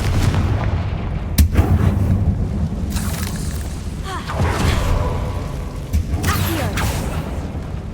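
Fire explosion spell cast in the Hogwarts Legacy video game, loud booming blasts and rumbling impacts over a dense, continuous roar of game sound effects, with sharp hits recurring through the scene.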